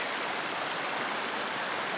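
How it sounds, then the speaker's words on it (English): The Waptus River flows steadily along the Pacific Crest Trail, a dense, even rush of running water that is fairly loud and close, with no voices over it. "Made it to the Waptus River. This is my water source"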